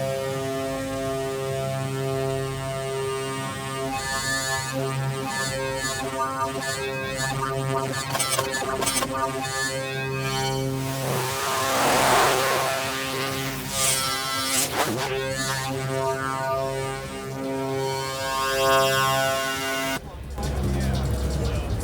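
A Piston Honda MK3 synth oscillator glides smoothly between presets, a buzzy, harmonically rich drone whose tone shifts and sweeps continuously across the passage, with a person talking over it throughout.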